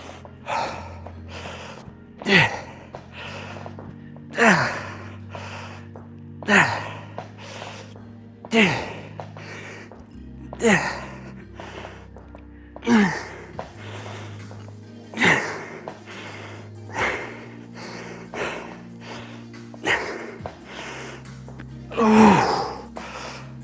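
A man doing a leg-day workout breathes heavily, with rhythmic forceful exhales and gasps roughly every one to two seconds. The breaths are close and loud and carry on steadily throughout, with no speech.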